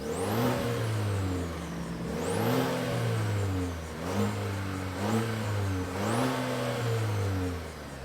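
A 2023 GMC Canyon AT4X truck's engine revs repeatedly, rising in pitch and settling in several loud, close surges between steady running, with no talk.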